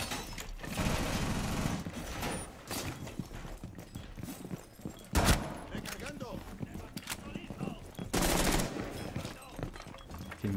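Bursts of gunfire from a teammate's weapon in Rainbow Six Siege, several sharp loud cracks scattered among busy game noise and ongoing talk, with a couple of heavier louder bursts near the middle and end.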